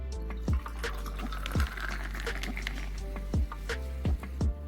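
Cola is poured into a glass of Chivas Regal 12-year Scotch whisky over ice cubes, with liquid running steadily and sharp, evenly spaced pops and clinks breaking through close by.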